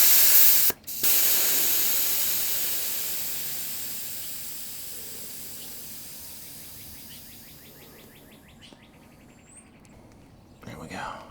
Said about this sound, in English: So I'm going to let all the air out again.